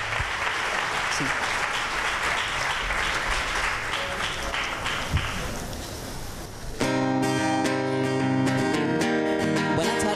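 Crowd at a music-for-equality concert in Chiclana claps loudly for the band for about seven seconds, a dense sustained applause that gives way abruptly to the band starting to play; a voice speaks briefly.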